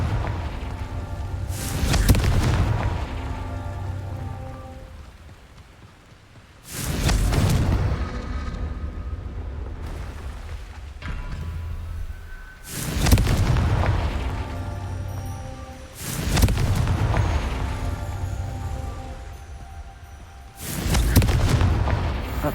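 Confringo fire-spell blasts from the video game Hogwarts Legacy boom out in a series of four or five loud, heavy explosions spaced several seconds apart, each followed by a rumbling tail.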